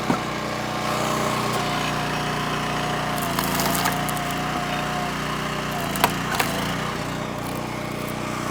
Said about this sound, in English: Let's see if I can get this to split nicely.